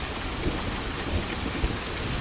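Steady heavy rain pours down in a thunderstorm, with a dense hiss of rainfall and faint low rumbles of thunder throughout, used as a background effect in a spoken story.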